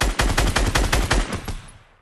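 Rapid automatic gunfire in a video game shooter, a loud close burst of about a dozen evenly spaced shots that stops and leaves a fading echo tail.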